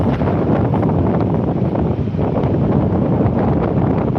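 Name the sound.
wind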